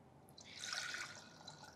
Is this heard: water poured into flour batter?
yes